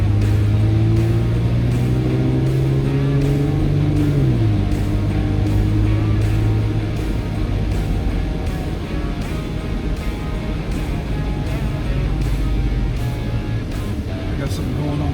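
A car on a test drive after control arm adjustment and wheel alignment, its steady engine and road hum filling the cabin with a gear change partway through, in light traffic before the highway.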